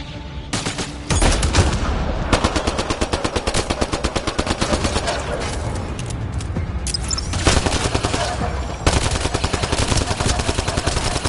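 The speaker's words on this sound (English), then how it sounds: "Enemy fire! Careful!" Sci-fi firefight in Mass Effect Andromeda: sustained bursts of rapid automatic weapon fire, loud and close, repeating in long rattling volleys with brief gaps and occasional single shots.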